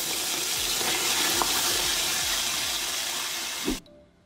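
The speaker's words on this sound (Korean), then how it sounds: "다시 한번 물에 담가서 해감시켜주고 마지막에 한번 헹궈주면 됩니다" White whelks from Pohang being rinsed under running water, a steady close rush of flowing water that stops abruptly near the end.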